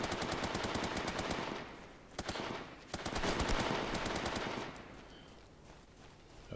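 Automatic gunfire in the video game SOCOM H-Hour, with dense rapid bursts of shots, a brief lull near the middle, a second long volley, then fading to sparse quieter shots near the end.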